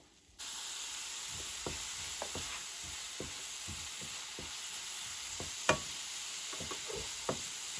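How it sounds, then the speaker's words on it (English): Chopped onions, garlic and ginger fry in a rice cooker with a constant soft sizzle, while a spoon stirs and scrapes in repeated light strokes close by. "our chopped onions, garlic and ginger. Then you give it a stir."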